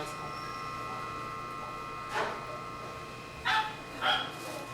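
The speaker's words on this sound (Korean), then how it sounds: "4개월 된 강아지입니다" A four-month-old puppy in intensive care at a university animal hospital lets out three short yips at mid distance over a steady machine hum.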